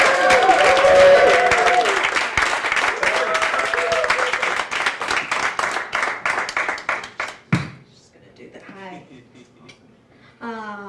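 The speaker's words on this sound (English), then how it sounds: "Start clapping right now." A comedy club audience claps and cheers loudly for several seconds, the applause thinning out before a voice starts talking.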